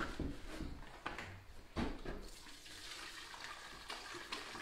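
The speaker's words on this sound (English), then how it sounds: "We're going to put a little thinner in here, and we're basically going to charge the machine with that." Paint thinner poured into a slop bucket while charging a paint sprayer during maintenance, a steady splashing pour of liquid with a few louder sloshes, close by and with no talking.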